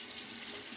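Cold tap water runs steadily from a faucet for a rinse after a shave, a close, continuous hiss and splash with no voices.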